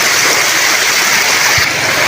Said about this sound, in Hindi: पानी यार, बहुत तेज है ना।